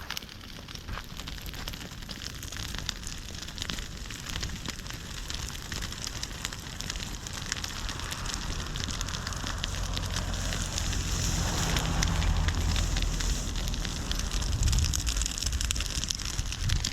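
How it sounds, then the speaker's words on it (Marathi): Fire burning in a farm field in the Konkan countryside, a steady close crackle and rushing roar that builds louder toward the end, with no talk over it. "आणि आग पेटत आहे ना असं बघा"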